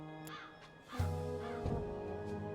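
A crow in the video game Dreamfall Chapters gives several loud, rasping caws against a soft ambient drone.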